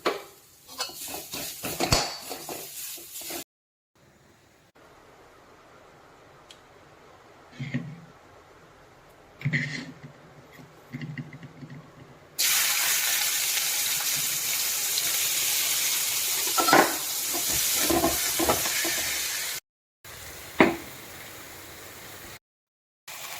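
Grated coconut is lightly roasted in a pan used for a spinach biryani, with scraping and clinking of a utensil against the pan and a steady sizzling hiss partway through, broken by short pauses.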